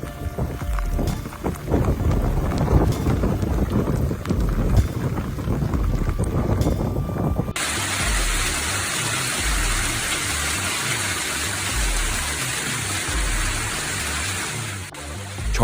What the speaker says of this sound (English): Lovington, New Mexico was attacked by hail the size of tennis balls.